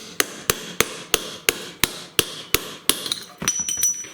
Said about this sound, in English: then I just pound the pin punch